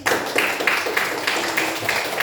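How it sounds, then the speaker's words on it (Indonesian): Classroom applause for a student group, a short burst of steady clapping from several people, moderately close, with no talk over it. "Kasih tepuk tangan untuk kelompok 3"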